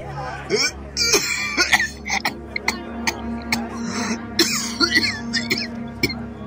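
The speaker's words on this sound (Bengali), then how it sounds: "তার কাশি শুরু হলো। কাশির দমকে তার চোখ যেন ঠিকরে বেরিয়ে আসছিল।" A man coughing in repeated harsh fits after drawing on a cigar, fairly loud and close against a background music bed in a dramatized Bengali detective story.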